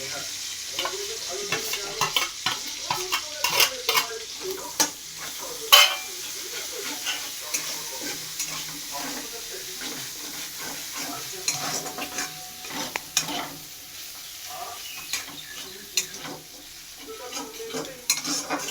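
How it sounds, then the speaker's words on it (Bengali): Ginger sizzles and fries in hot oil in a home kitchen, a steady crackling hiss with scattered stirring scrapes and utensil clinks against the pan throughout. "আদাটা একটু ভাজা হোক। আদা ভাজা তেলও ছেড়ে যাচ্ছে।"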